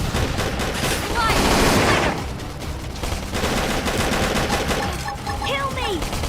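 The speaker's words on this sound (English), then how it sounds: "Flame grenade!" Flame grenade attack in the Xenoblade Chronicles X video game, dense crackling bursts of gunfire-like blasts and explosions layered over continuous battle noise, with a few brief voice calls mixed in.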